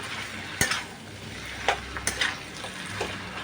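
Katla fish head curry with greens is stirred in a pan under a constant sizzle, with scattered scrapes and clinks of a utensil against the metal. No voices.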